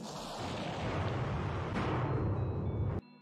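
A rumbling explosion in the game Game Over Quest, a dense, roaring blast that swells and holds for about three seconds before cutting off abruptly.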